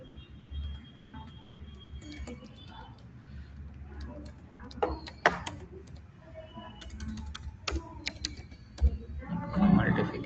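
Someone types C++ code on a computer keyboard, producing quiet irregular clicks and clustered key taps throughout, with soft scattered bursts and a busier flurry near the end.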